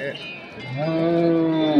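A large bull at a livestock market lets out one long, loud, rising moo that swells and holds close by, with faint market noise behind it.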